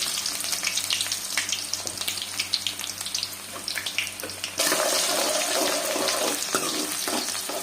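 Onions frying in a pan until browned give off a loud, dense sizzle, with a tap running beside it and water splashing that grows louder and steadier partway through.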